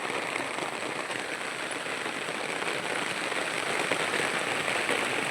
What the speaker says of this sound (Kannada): ಎಂತ ಮಳೆ